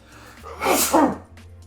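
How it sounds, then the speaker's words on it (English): A single loud, close sneeze bursts out suddenly during a tabletop card game, breaking an otherwise quiet moment. "I'm going to sneeze."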